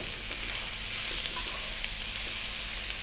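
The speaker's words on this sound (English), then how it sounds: "I'm going to add my bell peppers, my zucchini or courgette or kusa" Bell peppers and zucchini frying in a pan, a close, steady, bright sizzle with faint stirring scrapes, continuous and without talk.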